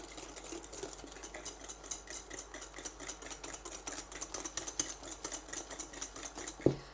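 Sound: stirring a mixture in a bowl

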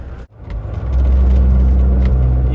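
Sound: crane engine rumbling

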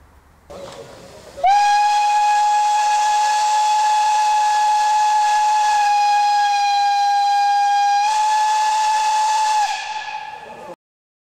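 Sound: long loud whistle of steam locomotive 94-15-38 departing station

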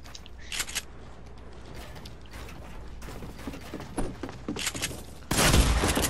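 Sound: shotgun firing in a video game

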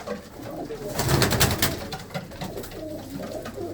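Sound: pigeons cooing in a pigeon loft

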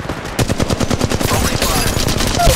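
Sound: gunfire in the video game Apex Legends Mobile

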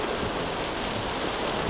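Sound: heavy rain and storm during road trip

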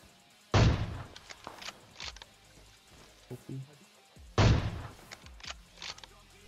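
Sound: sniper rifle shots in video game PUBG

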